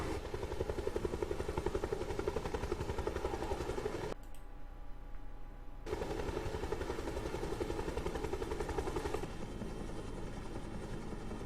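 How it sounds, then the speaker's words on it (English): A helicopter engine in the video game Ghost Recon Wildlands gives a steady, loud rotor thump and whine. It runs throughout apart from a short dropout near the middle and has no talk over it. "Get to the chopper!"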